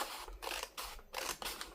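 Hand scissors snip through paper for a mini prayer journal, several quick crisp cuts in close succession, close and fairly quiet.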